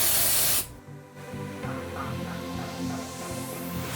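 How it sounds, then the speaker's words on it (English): Hair volume spray hisses onto the lower half of someone's hair, one short loud blast of aerosol followed by quieter background sound. "So I'm just gonna go ahead and spray it to the bottom half of my hair."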